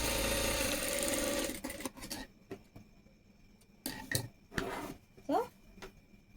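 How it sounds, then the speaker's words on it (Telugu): A sewing machine stitches a tie strip for a blouse, running steadily and close for nearly two seconds before stopping. Light clicks and handling of fabric and metal follow. "పాదం ఖర్చు పెట్టి సెకండ్ స్టిచ్ కూడా వేసుకురావాలి"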